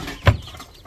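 A native rooster gives a single short, close cluck, alone against quiet background.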